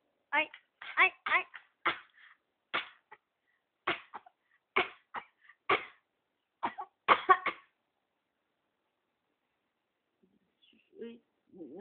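A run of short, sharp coughs in quick succession, fairly close, followed by a few seconds of quiet and a faint stir at the end.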